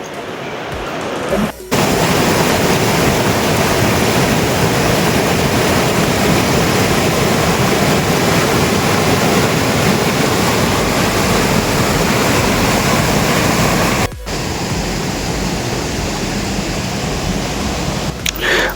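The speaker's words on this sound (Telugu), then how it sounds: "ఈ వాటర్ ఫాల్ని ఈ వ్యూలో చూసేసరికి నాకు మొత్తం మర్చిపోయాను" Tarabu waterfall roaring as a loud, constant broadband rush of falling water heard up close, filling the whole stretch with steady noise.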